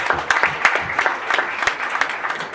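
Brief clapping from an audience at a Ministry of Education speech ceremony, a thin scattering of separate hand claps rather than a full roar, moderately quiet and alone.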